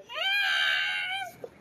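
A single drawn-out, high, wailing cat meow that sounds distressed, loud and fairly close, lasting over a second before a brief faint noise.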